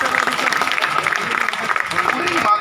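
Audience at a public meeting in Durg claps steadily through the whole stretch, a dense patter of many hands heard alongside ongoing talk.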